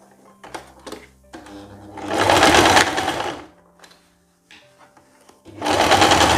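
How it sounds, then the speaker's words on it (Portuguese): An overlock sewing machine stitches the side seams of a pair of shorts, with close, loud bursts of rapid mechanical whirring separated by quieter pauses and small clicks. "Agora nós vamos costurar, ó, as laterais do short e vamos passar no overlock."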